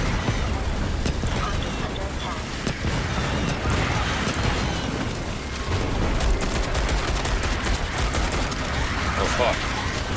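Defense turrets in the video game Starship Troopers: Extermination fire a continuous stream of rapid gunshots, loud and close, mixed with explosions and chaotic battle noise as a voice talks over the gunfire.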